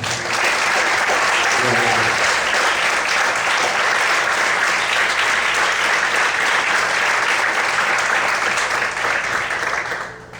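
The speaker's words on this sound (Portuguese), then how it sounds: "Quantos podem aplaudir o Senhor?" A church congregation applauds during a sermon, loud sustained clapping that fills the hall for about ten seconds before tapering off at the end.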